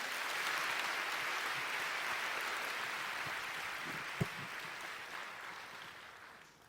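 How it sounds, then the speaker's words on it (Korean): A congregation at a church prayer gathering applauds a guest musician, a broad even wash of many hands clapping that fades out gradually at the end. "잠시 박수 해주시겠어요?"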